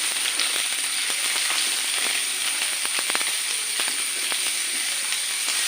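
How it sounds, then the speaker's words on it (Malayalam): Long beans (payar) sautéing with onion and a little salt in a pan give a steady, close hiss and sizzle with faint scattered crackles, and no voices. "നമുക്ക് വഴറ്റി കൊടുക്കാം."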